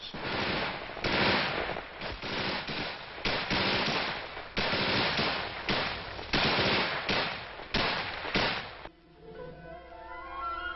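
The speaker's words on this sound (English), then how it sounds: "the Viet Cong hit them with mortars and harassing small arms fire" Vietnam combat: bursts of small arms gunfire and mortar blasts crackle loudly in dense, overlapping volleys for several seconds, then fall away into a quieter tail with no talk.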